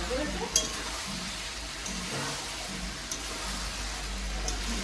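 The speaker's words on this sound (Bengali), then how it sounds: "তো আমি সেরকমভাবেই কষাচ্ছি।" Meat sautéing in a pan with garam masala spices, a steady close sizzle with occasional soft scrapes of stirring and a few faint taps, quiet and continuous with no clear talking.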